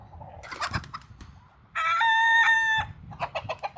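A flock of chickens let out of their coop: scattered clucks, then a rooster's long crow rings out loud and near, followed by more choppy clucking, with no talk.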